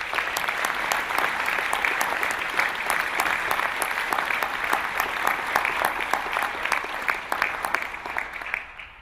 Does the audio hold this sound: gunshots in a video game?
no